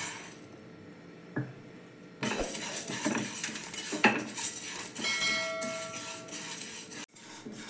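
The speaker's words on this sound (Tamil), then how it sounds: "இப்போ நம்ம பச்சை பருப்பு வறுத்துக்கலாம்." Green moong dal roasting in a pan for wheat rava pongal, heard as scraping and metallic clinks of a spoon against the pan, with a few sharper knocks and rattles that grow busier after a quiet start.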